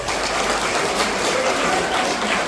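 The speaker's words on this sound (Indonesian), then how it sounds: "Tepuk tangan dulu." A crowd applauding at a school alumni reunion, a dense, steady patter of many hands clapping close and continuous with no voices.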